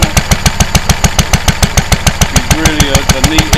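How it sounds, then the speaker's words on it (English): A Lister D stationary engine with a radiator, mounted on a cart, runs at a steady idle, its evenly spaced, rapid firing thumps loud and close throughout. "It's really a neat engine."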